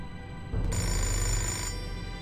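A telephone rings in the video game Indigo Prophecy, its bright electronic trill starting after a brief pause and sustaining steadily over a low background hum, with no talking.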